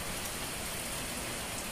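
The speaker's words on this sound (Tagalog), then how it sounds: "Wala pa rin tigil yung ulan" Steady rain pours outdoors in a quiet provincial neighborhood, a dense, even hiss of drops on surfaces with no letup and no voices.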